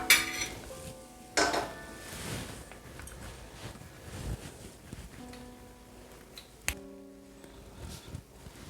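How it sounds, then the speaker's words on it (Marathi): Fried anarsa lifted from a kadhai and set in a sieve to drain oil, faint metal clinks and scraping with soft oil sizzle in the background and a few sharper taps of utensils. "आता हे असं अनारसा तेल नितळायचं कढईमध्ये आणि असं चाळणीमध्येच ठेवून घेत आहे मी"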